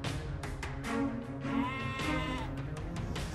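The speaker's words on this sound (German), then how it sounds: "wie die Ziege um ihre armen Kinder weinte" A goat bleats in a children's fairy-tale setting, with several wavering cries close and clear, one longer drawn-out bleat in the middle and no talk over it.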